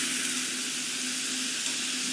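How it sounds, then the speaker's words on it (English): Food on a grill at a Chipotle restaurant sizzles steadily with a continuous frying hiss and a faint low hum beneath, no talking. "That sizzle, that's the soundtrack of Chipotle."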